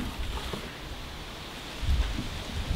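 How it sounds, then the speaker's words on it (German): Wind rushing steadily outdoors, with low rumbling gusts buffeting the microphone, swelling louder near the end. "Ist heute ein bisschen windig"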